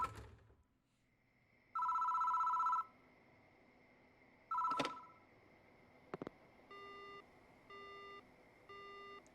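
A public phone booth in the horror game Spirit Hunter: Death Mark gives electronic telephone rings and bleeps, two long buzzing trills followed by several short, evenly spaced beeps. The tones sit over a quiet background with no speech.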